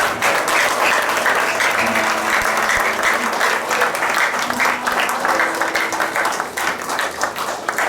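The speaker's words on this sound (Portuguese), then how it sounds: "Você pode aplaudir ao Senhor?" A church congregation claps in praise during a service, a steady, dense crowd of applause that continues evenly for several seconds at moderate loudness.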